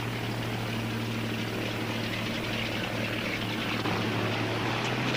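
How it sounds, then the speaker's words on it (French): A propeller-driven fixed-wing aircraft drones steadily overhead, its engine giving a continuous loud hum with a low tonal throb that stays even throughout. "Regardez, un avion."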